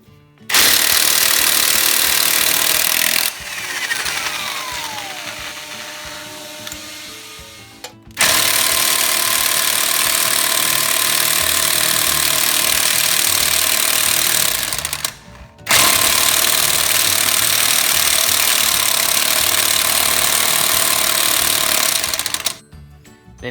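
A loud impact wrench hammers rapidly in three long bursts, with short gaps between, while removing car lug nuts during a tire rotation, one nut overtightened.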